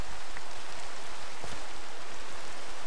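Steady rain falls in Minecraft, a soft, even hiss of drops that runs unbroken and fairly quiet throughout with no voices.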